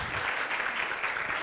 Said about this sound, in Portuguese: eu quero pedir uma salva de palmas para a Maranei.